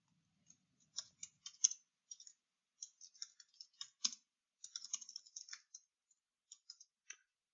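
Quiet, close typing on a computer keyboard, irregular light key clicks in short bursts and pauses over near silence.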